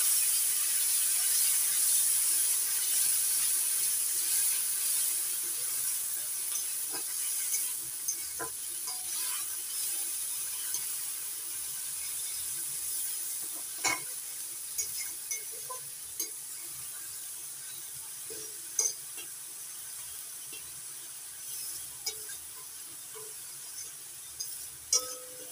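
Onion paste frying in a pan for a boal fish curry, a soft continuous hiss with scattered light scrapes and taps from stirring, fading slightly over time.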